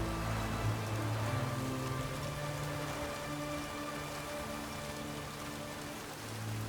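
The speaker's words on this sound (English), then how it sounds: "What a downpour." Continuous heavy rain in the video game The Witcher 3 pours down in a dense, even hiss, with a low steady hum beneath it and no voices.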